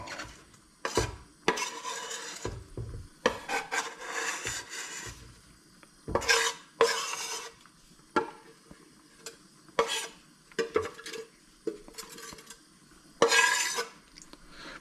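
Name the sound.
stirring onions in a pan on low heat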